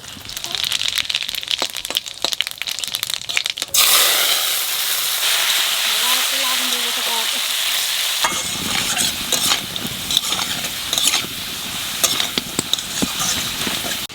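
Dry red chillies and cumin crackle and hiss in hot oil for an okra dish, with loud stirring and scraping in the pan, a quieter sizzle in the middle, and then vigorous stirring again.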